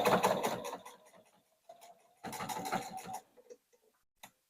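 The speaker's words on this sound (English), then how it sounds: "I'm going to stitch down here now, and go slow because it's a lot of layers" A sewing machine fitted with a size 14 denim needle stitches slowly through many thick fabric layers of a cross-body phone tote, running in two short bursts of rapid ticking with a pause and a few isolated clicks between them.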